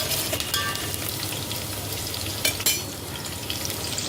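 Onions and green chillies fry in hot oil in a pan for Andhra-style cooking, a steady close sizzle with a couple of brief scraping stirs and no voices.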